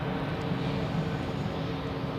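A Helvetic airliner taking off at Zurich Airport, heard as a steady, broad jet engine roar that holds level without swelling or fading over the short stretch, fairly loud and continuous with no voices.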